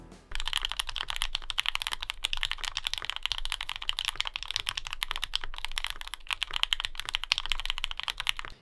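Steady, fast typing on a mechanical keyboard fitted with stock, unlubricated Oil King switches straight from the bag. The key clacks are crisp and dense, come at an even pace, and play close up and alone for about eight seconds.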